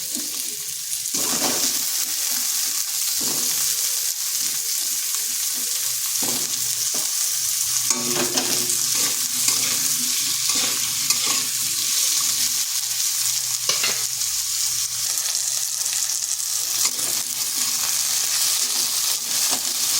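Cut potatoes and onion fry in a pan, a steady hissing sizzle running continuously, with occasional scraping stirs and clinks of the utensil against the pan.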